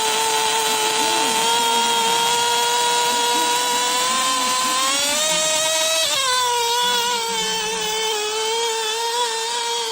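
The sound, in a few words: remote control tractor pulling a sled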